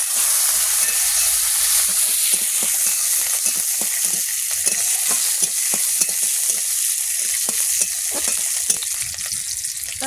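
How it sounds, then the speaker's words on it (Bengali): Cumin, dried and green chillies and bay leaf sizzle steadily in hot oil in a wok, a loud continuous hiss broken by small popping crackles throughout. "কড়াই তেল দেবো, জিরে দেবো, শুকনো লঙ্কা, কাঁচা লঙ্কা দেবো,"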